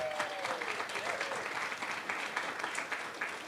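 An audience at a university speech showcase applauds in a steady, fairly quiet burst of many hands clapping, with a faint voice briefly audible at the start.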